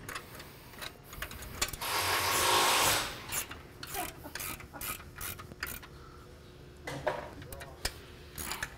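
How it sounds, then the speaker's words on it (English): Wrench ratcheting as bearing bolts on the front bearing of an MSP 450-470 belt drive are tightened, close and fairly quiet, with repeated short clicking and rasping bursts and one longer grinding stretch. "take your 5/8 and your 11/16 and tighten down your bearing bolts"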